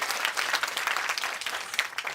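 Steady applause from an audience at an Independence Day mushaira, an Urdu poetry gathering, with dense overlapping claps that stay loud and even throughout.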